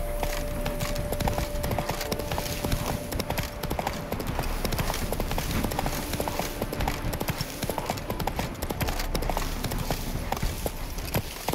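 Roach the horse galloping in The Witcher 3: Wild Hunt, hooves pounding in a fast continuous clip-clop rhythm, loud and close, with faint game sounds layered beneath.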